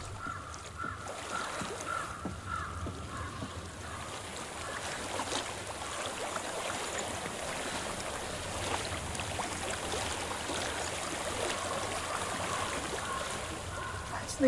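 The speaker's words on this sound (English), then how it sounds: "I hear water." Steady stream water runs and burbles in the fantasy game Hellblade: Senua's Sacrifice, a continuous rushing wash that holds at an even level throughout with no break.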